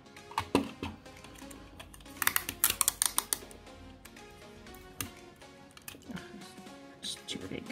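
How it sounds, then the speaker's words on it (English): A piece of sticky tape pulled and torn off a roll at a crafting table, heard as quick close crackles and rips among light tapping and handling sounds, with someone talking over the work. "And then I'm gonna use my piece of sticky tape."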